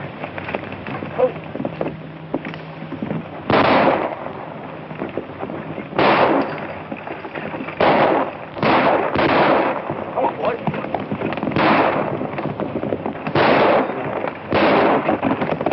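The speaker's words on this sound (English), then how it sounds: "I want you to fire over their heads" Gunshots fired over riders' heads in an old black-and-white western: repeated sharp cracks in uneven bursts over a noisy, crackling soundtrack with hoofbeats and commotion.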